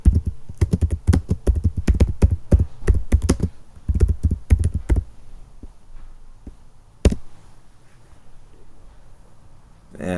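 Rapid keystrokes on a computer keyboard, a dense run of close clicks for about five seconds, then sparse single taps and a louder one near seven seconds, with quiet room tone between.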